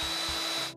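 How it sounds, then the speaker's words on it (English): A small power drill bores a hole for a brass light-plug insert during an RC Flite light installation, giving a loud, steady high whine that runs for under a second before cutting off. "Now we're going to drill our second hole."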